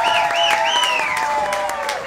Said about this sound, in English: Let's give my lovely wife Evelyn another round of applause.